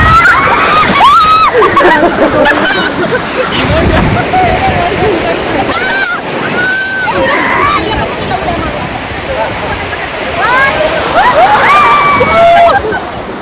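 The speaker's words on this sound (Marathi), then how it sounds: "आम्ही आता चाललोय पाण्यात आतमध्ये जाऊ" People wading into sea water on a beach trip, with loud sloshing, splashing and surf rushing close by, while excited voices call out and chatter over the water throughout.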